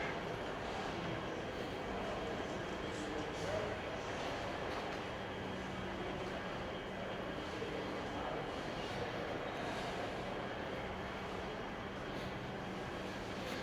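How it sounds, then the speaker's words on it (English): A steady, broad rumble of a train arriving at a station in Fürth, Germany, with continuous rail noise holding at a constant level throughout and no clear talk. "this is the train"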